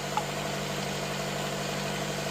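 A 2014 Nissan Sentra SV that is running hot idles steadily, giving a constant low hum with an even mechanical drone and no revving.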